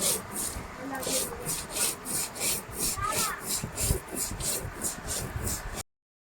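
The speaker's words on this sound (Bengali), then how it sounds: "ধনে জিরে আমি বেটে নিচ্ছি।" Coriander and cumin seeds being ground by hand, a rhythmic scraping and rubbing stroke repeated steadily and close up for several seconds.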